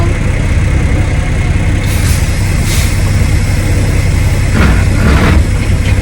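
A manual-transmission truck idles loudly and steadily in first gear during a brake test, its deep engine rumble constant throughout with a few brief hissing bursts on top.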